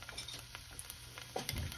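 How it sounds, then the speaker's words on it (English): Vietnamese crispy pancake batter sizzles and crackles in hot oil, a quiet steady fizz with a few brief stirring scrapes and clinks. "we hear some sizzle"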